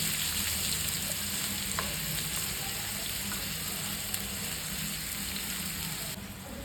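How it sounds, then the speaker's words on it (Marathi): Onion frying in hot oil in a pan for onion-tomato chutney, a steady dense sizzle throughout with faint stirring, no talking. "आपल्याला आता हा कांदा तेलात चांगला फ्राय करून घ्यायचा आहे,"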